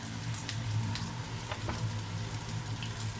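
Garlic sizzles in a pan alongside bacon, a close, steady crackling hiss with faint pops and a low hum underneath, and no talking.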